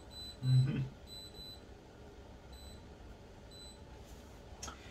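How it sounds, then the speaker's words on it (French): A kitchen timer beeps faintly in short, high-pitched bursts, repeated several times in a quiet room, with a brief low thump near the start. "je mettais le minuteur pour les patates."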